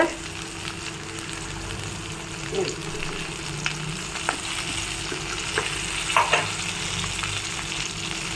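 About ten garlic cloves and rock salt sauté in a hot pan for spinach kadayal, a steady close sizzle with a few scraping stirs and small pops.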